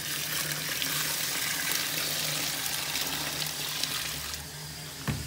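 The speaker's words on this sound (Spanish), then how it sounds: "ahora le voy a echarle un poquito más de agua con el jabón" Water with soap pours onto laundry during hand washing, a steady rushing splash that runs for several seconds before tapering off, with a small knock near the end.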